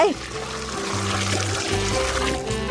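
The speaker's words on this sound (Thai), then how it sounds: "และแน่นอน ฉันต้องการสาดน้ำบนสนามหญ้าด้วยเทน้ำลงไป" Water poured onto a lawn in a home-decorating video game, a splashing, trickling pour heard over tonal game music, with a voice-like sound present.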